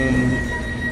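A light rail train runs with a steady low rumble and a thin, constant tonal whine from the carriage, on the LRT line from PITX station to Fernando Poe Jr station.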